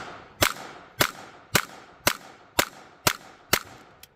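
A .22 pistol firing Aguila Super Extra ammunition, eight sharp, close reports spaced evenly about half a second apart in a steady rapid string.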